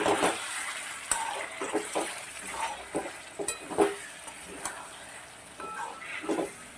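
Chicken cooking in a pan with ginger and green chili paste gives a soft, steady sizzle, broken by irregular scraping and stirring clinks close by at moderate volume.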